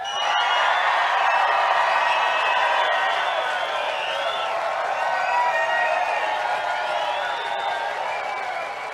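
Big crowd at a Bassmaster Elite bass fishing weigh-in on the Sabine River in Orange, Texas, cheering, whooping and clapping in a loud, sustained roar that eases slightly toward the end.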